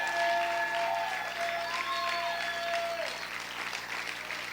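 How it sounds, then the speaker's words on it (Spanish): A church congregation applauding and cheering for their King during a sermon, a dense clatter of clapping with tonal cries and voices riding over it, strongest at the start and gradually softening. "Grita y aplaude fuerte a tu Rey."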